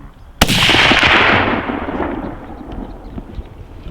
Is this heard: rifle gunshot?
yes